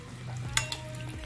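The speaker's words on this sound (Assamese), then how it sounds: "এনেকৈ অকণ অকণ তেলখিনি লৰাই দিব পিঠাটো তেতিয়া ফুলিবলৈ সুবিধা হয়" Tel pitha, an Assamese rice-flour cake, frying in hot oil that is stirred around it, a close, steady sizzle with a couple of sharp scraping clicks against the pan.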